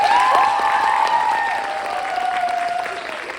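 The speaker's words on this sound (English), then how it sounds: "If we could just get a round of applause for them" Audience at a high school theater production of Alice in Wonderland applauding the cast and crew, loud sustained clapping with a held tone and scattered crowd noise beneath.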